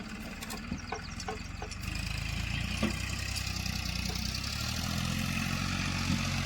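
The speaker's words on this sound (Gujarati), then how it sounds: "ટ્રેક્ટર આવી ગયું" A tractor engine idles on a farm field, a steady low rumbling drone heard close and continuous, growing slightly fuller partway through, with a few faint knocks over it.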